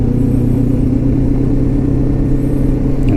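A 2025 Lifan KPT 400 motorcycle engine drones steadily while riding, a loud, close, even hum with a strong low rumble and slight fluctuation, no speech over it.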